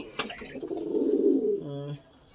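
A pet pigeon gives a rolling, throaty coo up close, swelling and fading over a couple of seconds, followed by a short tonal sound after a sharp opening click.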